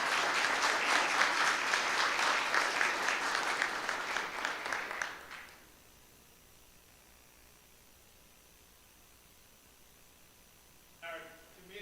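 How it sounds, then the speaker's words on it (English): Audience applause at a county school board meeting, a dense sustained round of many hands for about five seconds that cuts off into quiet room tone, followed by a brief voice near the end. "let's give them another round of applause"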